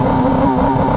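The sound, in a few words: Kawasaki Ninja ZX-10R KRT motorcycle revving with launch control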